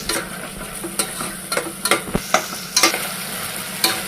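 Eggplant frying in oil in a pan, a steady close sizzle broken by repeated sharp scraping and clinking as a spatula stirs the pieces.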